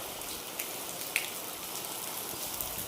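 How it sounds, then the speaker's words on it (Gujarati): Light, steady rainfall hisses softly, with a few distinct drips ticking out now and then against the constant quiet patter. "પહેલાં કરતાં થોડોક વરસાદ વધ્યો હોય એવું લાગે છે"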